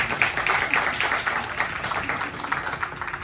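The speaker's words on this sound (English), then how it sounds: "A huge round of applause to all the attending speakers." An audience at a content creator brand event in NYC claps for the speakers, a dense, steady applause that carries on evenly throughout.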